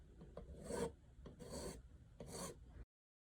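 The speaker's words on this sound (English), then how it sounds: "Here I am removing the burr that has been created by the filing process" A metal file rasps across a plastic eyeglass frame to remove a burr, three short, close strokes in an even rhythm, then the scraping stops.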